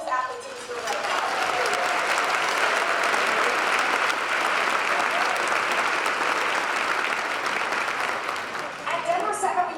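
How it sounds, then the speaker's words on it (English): Luncheon audience applauding athletes in a banquet room: sustained, even clapping from a sizable crowd that swells quickly and tapers at the end, with a voice briefly heard at the start. "A quick round of applause to all of these athletes in this room right now."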